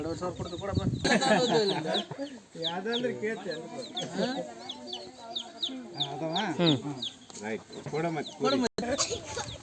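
Chickens clucking and squawking close by, busy and overlapping, mixed with people talking over them.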